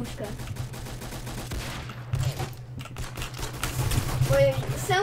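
Revolver shots from the Wild West–themed Roblox Arsenal shooter ring out amid game audio, a string of sharp cracks and rapid fire spread across the clip, with a player talking and exclaiming over the top.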